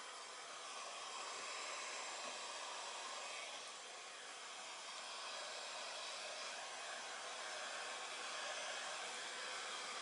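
A hair dryer blows steadily on a craft transfer applied to a tray, producing a constant, even airy whoosh for the full length with no talking.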